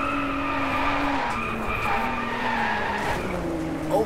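Race car scraping along a wall in the DriveClub racing game, tires skidding and squealing steadily over a droning engine for several seconds, close and loud.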